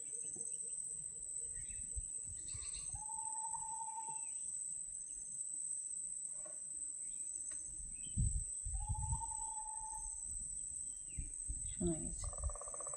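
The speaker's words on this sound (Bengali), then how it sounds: "একদম নিস্তব্ধ পরিবেশে একটা পাখি ডাকছে" A single bird whistles a short, clear call twice in the deep, quiet Sundarbans mangrove forest, over a constant high drone of crickets and insects, with faint low sounds and a brief voice nearby.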